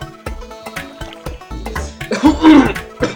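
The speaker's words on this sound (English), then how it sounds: "there'll be some coughs during this" A sick person coughs repeatedly in short harsh bursts, close to the microphone, ending with a heavier throat-clearing hack.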